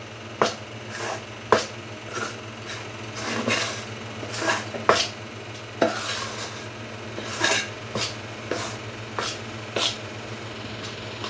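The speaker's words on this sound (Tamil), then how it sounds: "நல்லா கட்டி இல்லாமல் கிண்டி" Adhirasam dough being stirred smooth in a pot, with irregular close scrapes and knocks of a spoon against the vessel over a low steady hum, no talk.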